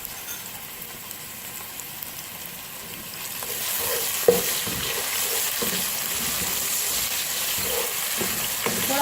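Ginger garlic paste fries with browned onions in a pot, a broad steady hiss that grows louder halfway through, with a sharp clink and occasional stirring scrapes up close.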